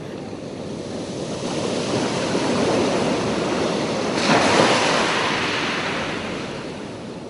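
A person imitates ocean waves with a sustained breathy rushing hiss that swells and surges like surf, loud and close, with no other talking.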